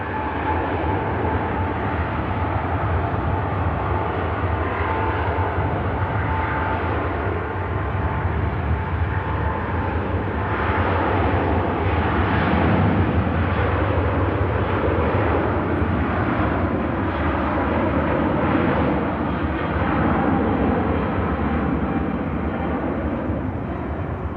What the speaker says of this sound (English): Singapore Airlines A380 heading back to Singapore.